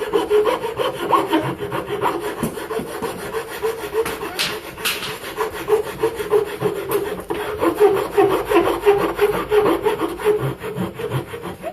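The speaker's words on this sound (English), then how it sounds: "I'm just going to use files and sandpaper and probably about half an hour of elbow grease" Hand files and sandpaper rasp and rub back and forth in a steady, close, loud rhythm as the edges of a wooden hand plane tote are worked into a bullnose.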